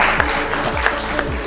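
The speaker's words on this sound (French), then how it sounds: "On applaudit." Audience applause fills the whole stretch as a steady, dense patter of clapping, moderately loud, with a few sharper accents standing out from the wash of hands.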